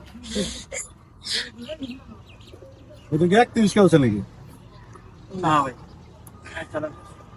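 Racing pigeons coo in short repeated bursts at a 51-kilometre youth pigeon racing tournament, fairly close, mixed with nearby talk.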